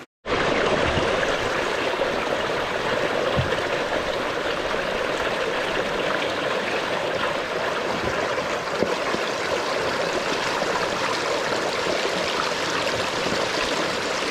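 The Kotmaleoya river in Sri Lanka rushes past close by, a loud, continuous watery roar that holds steady throughout with no talking.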